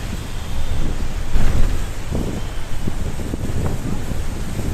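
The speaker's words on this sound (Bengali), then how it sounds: "এই যে গঙ্গার হাওয়া খেতে খেতে যাচ্ছি এটাই আমার খুব ভালো লাগছিল" Wind blows steadily off the Ganges river on a cool, breezy day, a continuous close rumbling buffet with gusty swells and no speech.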